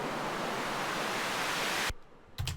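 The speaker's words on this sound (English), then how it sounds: "And then we just got a little white noise." A steady wash of white noise in an electronic music track holds loud and even, then cuts off abruptly near the end, followed by a brief percussive hit.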